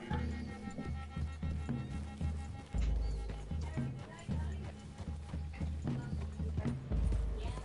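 Horse hooves clip-clop at a steady walking rhythm in the Western video game Red Dead Redemption 2, close and clear, with several horses' footfalls overlapping and brief louder thuds.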